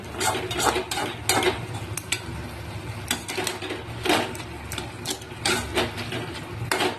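Mixed vegetables and leafy greens that have released their water are stirred in a pan. A spatula makes steady, close scraping and clinking against the metal, with a soft sizzle running underneath.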